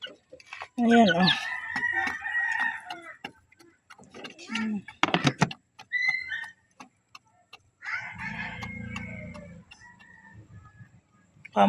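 Chickens cluck and a rooster crows nearby in a yard, with several distinct calls spread through the scene and people talking briefly in between.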